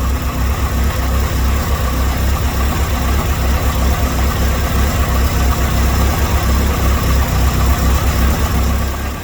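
Saturn S-series car engine fitted with a rear-mount turbo idles steadily and loud throughout, a constant low rumble with a fine uneven pulse and no talking.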